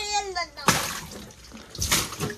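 A child pours and splashes water, two bursts of sloshing and splattering close by, with a voice at the start and voices through the rest.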